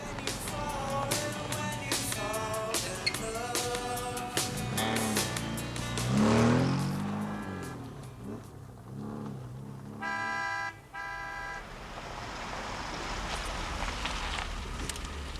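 A car drives along in a 1984 thriller film, its engine a sustained rumble heard beneath music, with tonal passages and a brief swelling roar midway.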